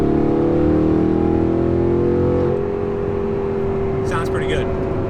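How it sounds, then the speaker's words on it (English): Audi R8 supercar with a Valvetronic custom exhaust, a loud low engine drone that holds steady and then shifts to a smoother tone partway through, with a person speaking near the end. "have a full Valvetronic custom exhaust on this car"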